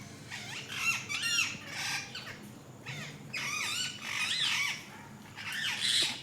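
Pigeons squawking while fighting, a series of sharp, rising squeals and harsh squawks in repeated bursts, close by and fairly quiet with no talk.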